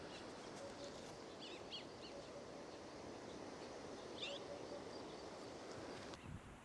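Faint hoopoe calls sound over a quiet outdoor background in South Africa's West Coast National Park, a few soft chirps and call notes scattered through the stretch, distant and intermittent.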